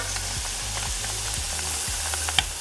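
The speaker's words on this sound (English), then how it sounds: "And now I'm just stirring them around to make sure they don't burn." Churro tots stirred in hot frying oil, a steady close sizzle with low scraping strokes recurring about every half second, alone with no voices.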